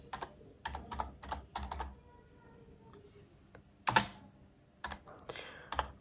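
Fingers tap keys on a computer keyboard while a command is entered on Kali Linux: short bursts of sharp clicks, a few quick clusters, a pause, then a loud keystroke and more scattered presses, close up.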